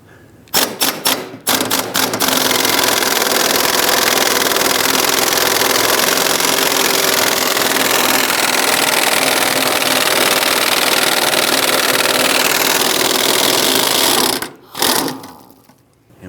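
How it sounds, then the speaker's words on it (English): An impact gun with an 18mm socket and extension removes fuel tank bolts on a 1999-2004 Jeep Grand Cherokee, a loud, continuous rattling hammer that runs for about twelve seconds after a few short bursts and stops abruptly. "We're using an 18mm socket with our impact gun and extension."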